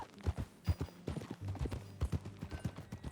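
Steady clip-clop of horse hooves trotting at a brisk, regular pace in Red Dead Redemption 2, fairly close, with a low hum of background music underneath.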